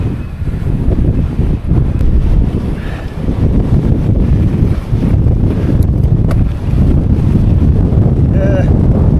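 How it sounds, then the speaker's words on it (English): Strong wind roars into the microphone of a rider cycling an exposed upland loop among windmills, a loud continuous buffeting rumble with gusts, while a person speaks faintly beneath it. "see the wind's trying to blow me off the bike"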